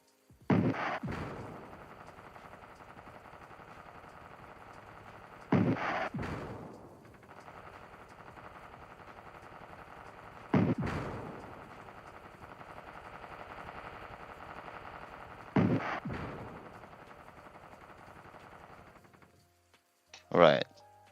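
Missile launches in a Godot-built video game, five loud sharp bursts spaced about five seconds apart, each followed by a sustained rumbling whoosh that fades before the next shot, with some talking in the background.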